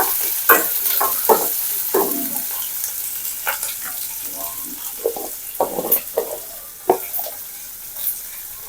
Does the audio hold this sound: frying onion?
yes